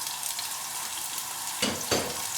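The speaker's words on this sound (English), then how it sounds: "I'm just about to add chilies in the oil." Chilies dropped into hot oil, a steady frying hiss throughout with two brief louder sizzle bursts near the end, close and moderately loud.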